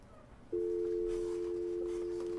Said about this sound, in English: I get a dial tone